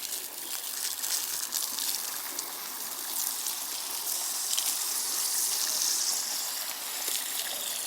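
A garden lawn is being watered, giving a steady, close hiss of gushing and spraying water that continues without a break and with no voices.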